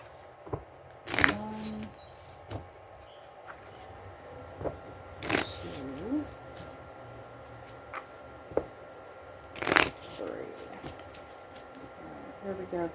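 A tarot deck being shuffled and cut by hand, giving a few sharp, close riffles and slaps of cards spaced across the stretch, with softer handling taps between them over a faint hum.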